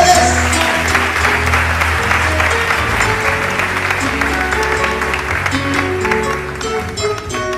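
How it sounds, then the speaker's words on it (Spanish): An audience applauds at a live music event, clapping steadily for several seconds while sustained tonal music with piano-like notes plays underneath. "Fuerte el aplauso para todos ustedes."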